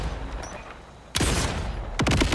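Sticky gunshots fired from a weapon in the video game Borderlands 4, two sharp bursts with short rattling tails and a pause between them, loud and close over low game ambience.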